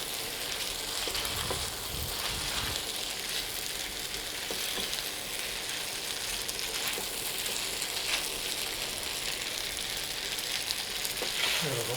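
Garlic, chili flakes and spaghetti sizzle and crackle steadily in an oiled pan, a continuous close frying hiss with occasional stirring clatter, no talking.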